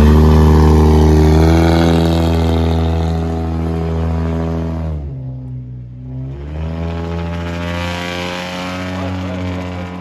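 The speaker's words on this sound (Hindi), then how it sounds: "गाड़ी का टेस्ट रन लेने जा रहे हैं।" A drift car on a test run revs hard with a loud, sustained engine note that dips briefly mid-clip before climbing again.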